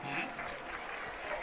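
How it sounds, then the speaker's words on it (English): Crowd roaring at a college football game in Zollner Stadium, Wayne versus Concordia, a dense, distant-sounding wall of cheering that holds steady for a brief moment. "as you could hear the roar from the crowd here at Zollner Stadium"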